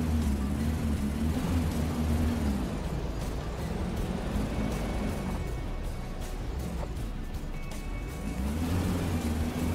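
Steady engine drone of a car driving in the Autobahn Police Simulator video game, with harmonic rises and falls as the engine revs up and eases off, continuous and fairly close throughout.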